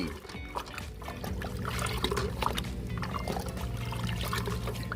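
Water poured into a homemade plant-fertilizer mixture, about ten litres, and stirred: a continuous liquid pour and sloshing runs steadily throughout, near and fairly even, with faint clinks and splashes on top and no talk.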